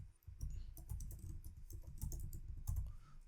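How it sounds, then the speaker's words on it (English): Typing on a computer keyboard, a quick irregular stream of soft clicky keystrokes, close and fairly quiet, continuing throughout with no talk. "if I'm typing something"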